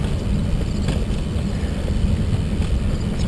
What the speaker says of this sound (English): hear the freeway traffic.